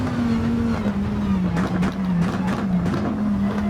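A Lamborghini GT3 race car engine in a racing game drones at steady high revs, with brief dips and quick rises as gears shift, loud and close throughout.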